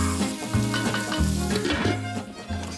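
Prawns frying in a pan with a spoonful of sesame paste, a close, lively sizzle with spatula stirring and scraping clicks, busy and uneven throughout with no talk.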